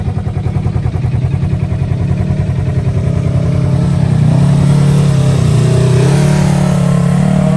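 Polaris RZR side-by-side engine revving steadily while riding on Florida's west coast, a loud, continuous mid-pitched drone that swells and grows fuller after a few seconds, with no talk.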